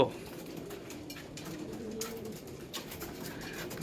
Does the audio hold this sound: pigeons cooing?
yes